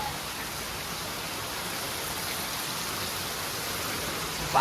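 Steady rain falls outdoors as a constant broadband hiss that continues evenly throughout, with a sudden louder burst right at the end.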